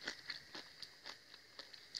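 Pickled, fermented cabbage crunches crisply between the teeth while being eaten, with a quick run of about seven close, distinct crunches and no talking.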